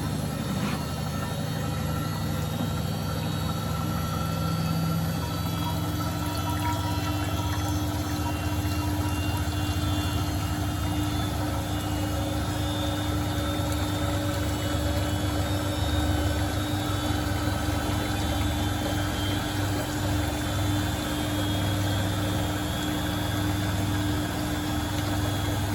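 A Bosch WFP3300 dishwasher draining water while spinning, a steady loud mechanical whir and pump hum mixed with sloshing water, continuous and close throughout.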